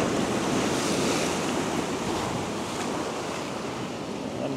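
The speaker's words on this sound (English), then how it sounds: "Just get those waves and the water on that rocks." Ocean waves crash and wash steadily against rocks at sunrise, a loud continuous roar of surf with wind noise buffeting the microphone.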